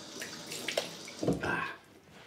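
Cold water from a bathroom tap splashing into a sink while someone rinses after a shave, a brief irregular wash of running water with a few close splashes, fairly quiet.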